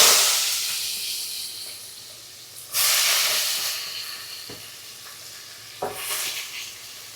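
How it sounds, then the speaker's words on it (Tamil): Chopped onions hit a hot pan of oil while making vegetable kuzhambu, and the loud steady sizzle surges in two bursts as more goes in, then eases to a softer hiss. "அடுத்து நம்ம கட் பண்ணி வச்சிருக்க வெங்காயத்தை போட போகிறோம்"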